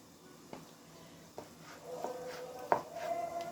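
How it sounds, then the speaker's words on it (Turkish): Boiled liver being chopped on a board, a few sparse knife strikes at first and then a quicker run of cuts, close and fairly quiet with no talking. "Sadece bir doğrayayım."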